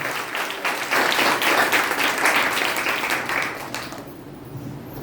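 A Sunday-service congregation claps hard, a thick, continuous crowd clapping with crisp individual hits that runs for several seconds before dropping away near the end.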